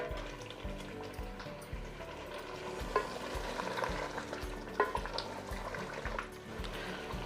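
Chicken frying over high heat in a yogurt masala for shahi chicken korma, with a steady wet sizzle and bubbling and repeated stirring scrapes against the pot, close by.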